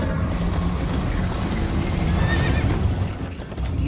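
In the video game Minecraft: Story Mode, a horse whinnies sharply over the rumble of galloping hooves and wind, with a noisy outdoor rush throughout.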